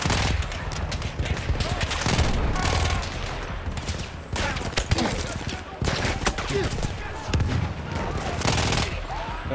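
Rapid, near-continuous gunfire from a gun in the video game Battlefield 1, loud and close, with short gaps and bursts of varying density, and a voice now and then beneath the shots.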